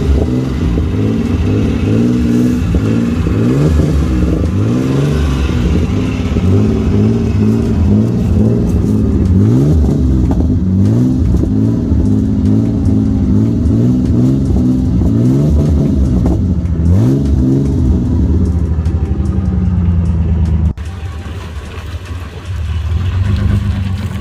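Straight-piped Ford Ranger with a 4.0 engine revving repeatedly outside, a loud, raspy exhaust rising and falling in rhythmic bursts, ending in a quieter idle.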